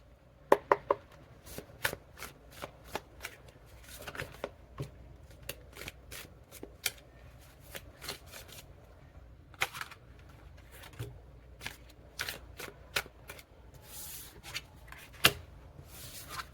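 Spirit Song Tarot cards being shuffled by hand, a quiet close series of sharp flicks and riffles that repeat irregularly over a soft rustling background, with no voices.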